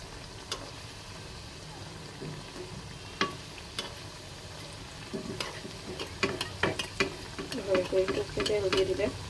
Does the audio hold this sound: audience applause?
no